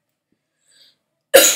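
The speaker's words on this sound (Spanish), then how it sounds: "Ese era una tos." A single sharp cough bursts out abruptly near the end after near silence, close and loud, from someone talking through a video game mission walkthrough.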